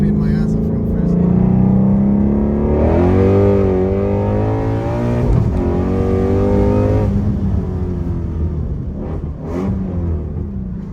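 A Ford Mustang GT350 accelerates hard in second gear, its loud, close engine note sweeping upward in pitch and then easing off, with road rumble underneath.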